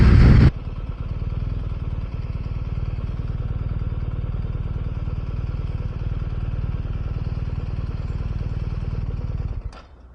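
A motorcycle engine idles in a steady, even rumble while the bike is parked, then cuts off abruptly just before the end, leaving near silence.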